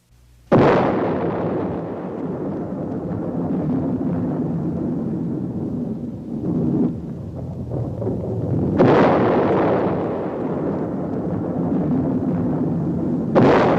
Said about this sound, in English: The world was deeply shocked by the first atomic explosion.